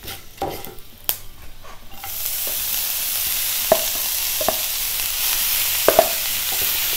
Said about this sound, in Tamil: இப்போ இது நல்லா வறுபட்ட பிறகு இந்த கீரையை சேர்த்துக்கிறேன்.